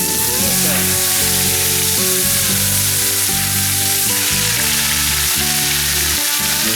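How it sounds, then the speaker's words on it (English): Venison backstrap searing in half a stick of butter, a loud close sizzle running the whole time over a sustained tonal hum, with no speech. "Let's put them in there and let them sear in the butter."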